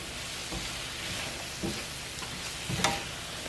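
A spoon stirs tomato soup in a pot on the stove, with soft scraping strokes and a faint sizzle running steadily underneath, a few louder knocks standing out.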